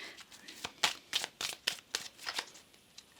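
A deck of tarot cards is shuffled in a rapid series of about a dozen crisp riffling flicks, close and clear with no talk over them.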